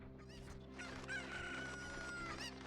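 A video game rooster crows once in a long, strained call, with a few clucks before it, close and fairly quiet.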